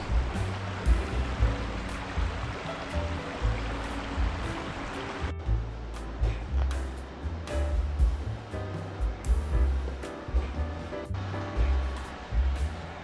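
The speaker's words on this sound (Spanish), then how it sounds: "Aquí estamos en el río, vamos a cruzarlo y vamos a entrar a la pequeña ciudad" A river flows steadily in Kawagoe, Saitama, Japan, giving a constant broadband rush of water with low rumbling underneath that continues through the whole stretch.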